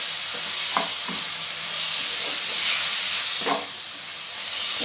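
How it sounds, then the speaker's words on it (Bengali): Tomatoes stir-fried with onions in oil over a medium flame for a spicy tomato crab: a loud, continuous hissing sizzle up close, with a few soft scraping stirs against the pan and no voices. "এটা 2 মিনিট তেলে কষে নেব পেঁয়াজের সঙ্গে।"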